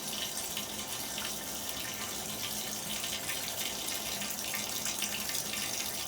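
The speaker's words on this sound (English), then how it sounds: "I'm gonna let this drain." Water gurgling down a bathtub drain after Drano has been poured in, a steady rushing hiss of flowing water that holds even and moderately loud, with no voices.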